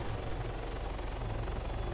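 Steady, loud rotor thrum and engine drone of a helicopter in a video game, continuous and close throughout with no gaps.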